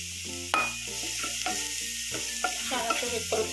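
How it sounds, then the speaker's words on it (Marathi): Green chili and garlic paste masala with a pinch of turmeric sautéing in a pan for traditional methi divse, a steady close sizzle broken by scraping stirs and a few sharp clinks, no voices. "छानसं हे परतून घ्यायचं"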